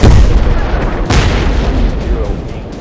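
Explosions in a MiG-21 jet fighter combat video game, heard as loud, rumbling booms with a sharp blast partway through and a continuous roar behind them.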